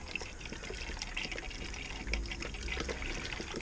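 Water pours steadily into the cooling system of a Honda VFR800 motorcycle, a continuous close splashing trickle with a slight rise partway through and no talking.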